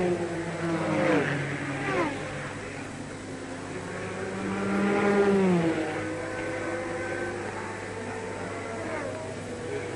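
A 1991 Le Mans Group C race car pulls out of the pit lane, its engine note rising and falling in sweeping pitches that swell around the middle before easing off, with commentary running throughout.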